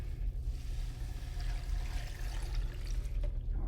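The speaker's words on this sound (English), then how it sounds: "I'm going to take this water and pour it right on top" Water pours steadily from a container into a blender holding green smoothie ingredients, a continuous close splashing and trickling stream that runs throughout without speech.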